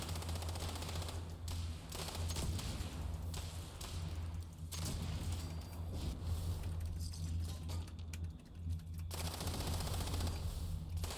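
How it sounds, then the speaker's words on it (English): Rapid automatic gunfire from a shooter video game rattles in quick, faint bursts over a steady low hum and background noise. "I love the sound of these guns being fired"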